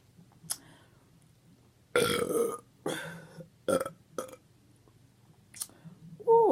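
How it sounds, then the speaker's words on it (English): Several loud, close burps from someone eating a breakfast of beef sausages, eggs, cinnamon raisin bread and rice, spread irregularly over the clip with quiet gaps, the biggest one near the end. "Ooh, I tell you about these burps. They be hitting."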